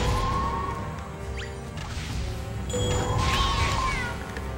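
A cat in the video game Grimgrimoire gives a couple of drawn-out meows and yowls among game sound effects. A short crash and whooshing swipes break in over a steady background hum.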